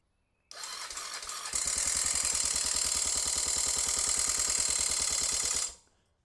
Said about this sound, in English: Turn our key switch on here and see if we can get it to fire up.